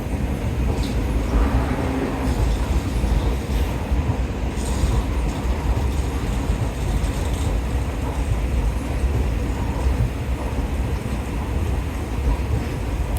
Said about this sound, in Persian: من رسیدم به ایستگاه قطار